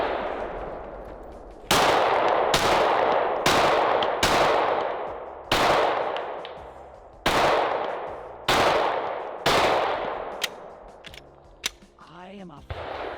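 Eight or so loud, sharp rifle shots from an ambidextrous Gen 3 rifle crack out at irregular intervals outdoors, each trailing a long echoing decay, followed by a couple of lighter clinks near the end.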